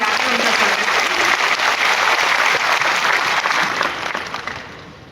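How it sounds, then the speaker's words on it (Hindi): Audience applause welcoming a speaker at a Delhi Police event, a loud sustained clapping from a crowd that fades out over the final second. "आप लोग एक बार जोरदार तालियां बजाकर उनका स्वागत करें।"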